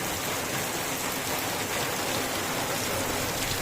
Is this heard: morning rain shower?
yes